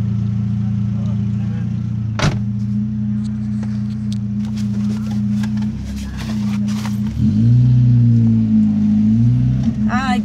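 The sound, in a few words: car driving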